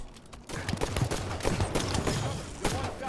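Gunfire from the shooter video game Halo 5 during a Strongholds match on the Plaza map, a steady burst of shots and sharp game effects filling the whole stretch after a brief quiet start.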